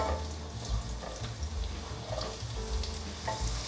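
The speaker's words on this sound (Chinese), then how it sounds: "继续翻炒，" Carrots and baby corn stir-fried in a wok, with a continuous close sizzle and repeated scraping and tossing strokes from the spatula, and no voices.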